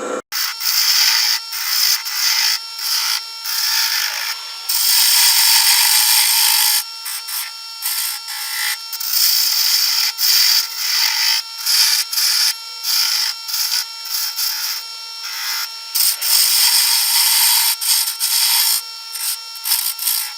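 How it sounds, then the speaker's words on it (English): A half-inch spindle gouge cutting a wooden coffee scoop on a lathe, a bright, loud hissing scrape in repeated bursts with brief gaps, close up and alone. "So I'm going to use my 1/2 inch spindle gouge."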